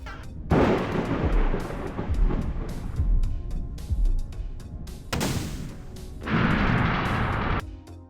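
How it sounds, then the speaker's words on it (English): In a video game, several deep booming blasts roll out one after another as a flare gun shot sets a bar exploding, loud and rumbling, with crackling debris noise trailing after each explosion. "he shoots a flare gun at the bar and watches it explode"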